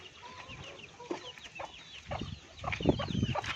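Several chickens cluck and squawk close by, a busy overlapping chorus growing louder toward the end.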